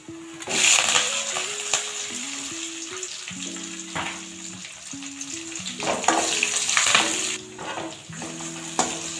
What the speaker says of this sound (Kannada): ನಂತರ ಈರುಳ್ಳಿ ಚೆನ್ನಾಗಿ ಫ್ರೈ ಆಗಿದೆ.